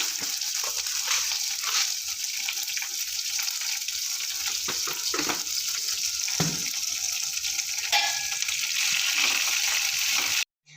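Green chillies fry in oil with rock salt, giving a dense, steady sizzle with a watery, hissing texture that carries on without a break and cuts off at the very end.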